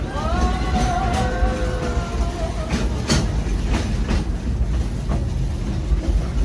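An 1800s-style steam train at Silver Dollar City rolls along the rails with a loud, steady rumble and repeated clickety-clack wheel beats, plus a brief squeal of wheels near the start.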